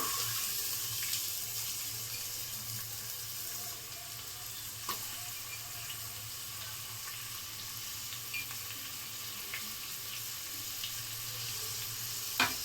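A medium-sized chopped onion frying in a pan for vangi bath, giving a steady, even sizzle and hiss with a few soft clicks from the pan, no talking.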